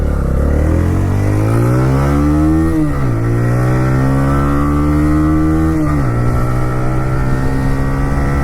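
A TVS Raider 125 cc-class motorcycle with a five-speed gearbox and 11.3 HP engine being ridden hard around a track lap, loud steady engine drone rising through the gears with two brief dips at shifts.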